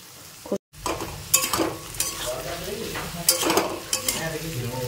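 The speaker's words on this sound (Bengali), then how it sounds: "এটা ভাজা ভাজা হবে, আলু পেঁয়াজ দুটোই" Potatoes and onions fry in a wok, a close crackling sizzle with bursts of stirring and scraping after a brief gap at the start.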